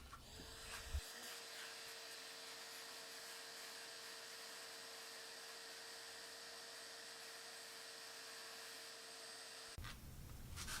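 A shop vac drones steadily while vacuuming debris off the floor during a Jeep Cherokee XJ headliner install, starting abruptly, holding a constant whine for about nine seconds, then cutting off.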